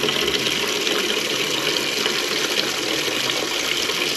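Water gushes and pours steadily with a constant, splashing rush, loud and close, running without pause.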